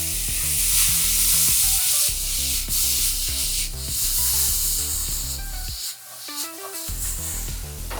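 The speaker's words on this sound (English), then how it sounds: "the pan's smoking, which means it's ready to rock and roll. And we're just gonna dump in our potatoes." Potatoes dumped into a hot, smoking pan give a steady, loud frying sizzle with rough scraping texture, continuous throughout with a brief dip near the end.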